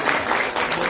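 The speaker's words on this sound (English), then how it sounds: "Let's give a round of applause to Sharan and Tina" An audience applauds after a kirtan chanting session, a dense, even roar of many hands clapping together, loud and close, sustained without pause through the brief moment.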